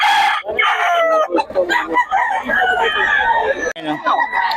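A rooster crows loudly and close among chickens for sale at a market in Bocaue, with repeated clucks and other fowl calls around it and people talking in the background.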